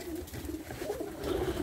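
Racing pigeons coo softly in a loft, a low repeated throaty murmur from several birds running continuously under faint background noise.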